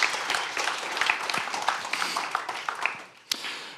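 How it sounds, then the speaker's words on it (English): An audience at the Match XR 2021 conference applauds steadily, a dense patter of many hands clapping that fades slightly toward the end. "A round of applause once again."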